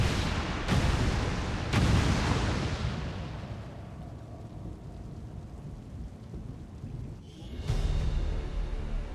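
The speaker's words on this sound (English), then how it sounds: "Detonating charges." Explosive charges detonating in the XCOM 2 video game, a deep rolling boom and rumble that fades out, followed by a second heavy blast.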